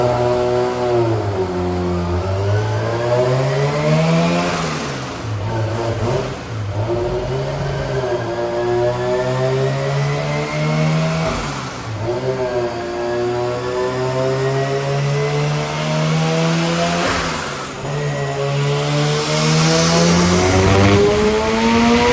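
A rotary-engined Subaru BRZ screams through a 4th gear dyno pull, its loud, buzzy engine note climbing steadily in pitch, easing off briefly before rising again, with no talk over it.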